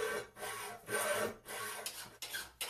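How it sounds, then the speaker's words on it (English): Hand file rasping across small cut pieces of steel box section to square them up, repeated close strokes in a steady back-and-forth rhythm with short pauses between passes. "And then filing them square."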